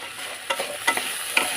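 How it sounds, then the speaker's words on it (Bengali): Vegetable curry stirred in a pan, with soft scraping spoon strokes over a faint steady sizzle, a few distinct knocks against the pan, quiet and close, no talking. "খুলে আমি একটু তরকারিটা নেড়ে দিচ্ছি।"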